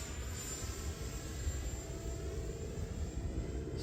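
A 3D printed PLA Viggen RC jet with a 50mm electric ducted fan flies at half throttle, its steady whining drone holding fairly level with slight swells as it passes at moderate distance.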